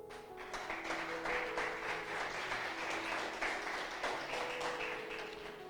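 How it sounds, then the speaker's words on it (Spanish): A church congregation claps together in steady, continuous applause, heard faint and somewhat distant, with a held musical tone underneath. "Así que déle palmas al Rey."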